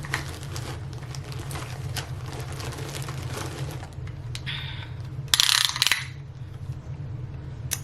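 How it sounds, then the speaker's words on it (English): A measuring tape in a studio, heard as steady ratcheting and clicking of the blade mechanism under a low hum, ending in a short bright metallic rattle and clack. "let's get a measuring tape out."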